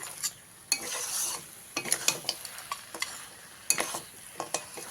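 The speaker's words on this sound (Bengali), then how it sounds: "বড়িটা দিয়ে ভালো করে মিশিয়ে নিয়ে" Lentil dumplings (bori) being stirred into fried red spinach, a Bengali lal shak bhaja, with repeated scraping strokes of a spoon against the pan over a soft sizzle, moderately close with no talking.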